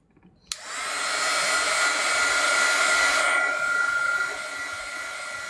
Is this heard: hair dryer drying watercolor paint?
yes